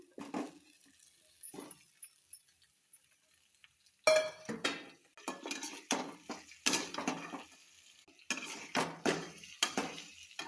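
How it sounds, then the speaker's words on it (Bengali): Meat stirred with fried onions in a pot: after a quiet start, a spoon scrapes and clinks against the metal in repeated bursts over a soft sizzle, close by. "আমি মাংসটা দিয়ে দিলাম"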